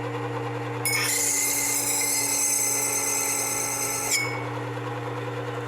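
A Work Sharp 3000 sharpener grinds a knife blade on a 600 grit CBN wheel, a steady bright whir of about three seconds rising over the low hum of the running motor, close by with no talking.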